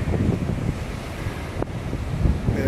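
Ocean surf on a muddy beach, heard as a loud, continuous wash of waves mixed with heavy wind buffeting the microphone, with no voices.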